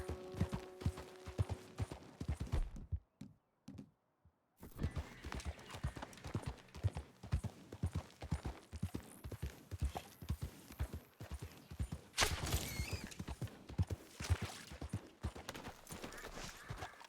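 Rhythmic clip-clop of several wild horses' hooves pounding nearby in Red Dead Redemption 2, with a brief silent gap, then the galloping resumes and grows louder.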